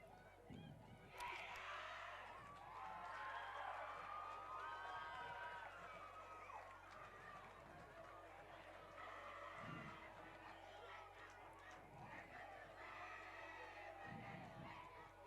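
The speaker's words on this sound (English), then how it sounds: "Look at the great energy that the McDonogh Eagles have right now with their cheer." Lacrosse players of the McDonogh Eagles chanting and shouting a team cheer at a conference championship game outdoors, a rowdy blend of many voices yelling together with crowd noise and some thumps.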